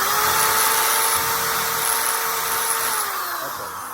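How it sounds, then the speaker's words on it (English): A power drill fitted with a hole saw whines loudly and steadily with a high-pitched tone, grinding continuously as it bores through a small piece of wood, easing off slightly near the end. "we're gonna try to drill a hole through this tiny piece of wood here"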